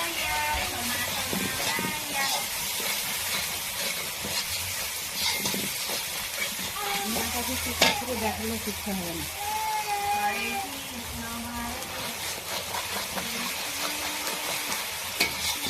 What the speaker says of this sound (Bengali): এখন এই মশলাগুলো ভালোভাবে কষিয়ে নিতে হবে।